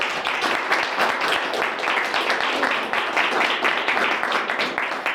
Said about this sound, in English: Let's clap for Footsie one more time.